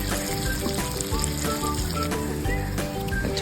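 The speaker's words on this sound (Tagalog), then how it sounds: "Saka igigisa-gisa lang po natin yan para mabango naman yung ating ginataang kasili." Ingredients sautéing in an oiled pan for ginataang kasili, a continuous close sizzle and crackle with faint tonal clinks, steady and fairly loud throughout.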